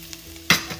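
Garlic cloves hit a hot pan with a sudden loud sizzle burst after a quiet moment, then settle into a softer crackle; no voices.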